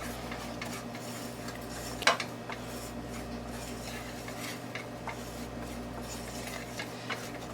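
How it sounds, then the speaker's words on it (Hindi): A whisk stirs cornflour and sugar in a bowl, giving soft scraping and light clinking with one sharper tap, quiet and close, with no voices. "इस तरह से मिक्स कर लें तो विस्क के साथ।"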